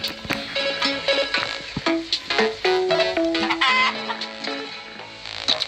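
Cartoonish chicken clucks and short squawks from a Vlad and Niki children's video game, a busy run of bright, rhythmic calls over light game music with no talk.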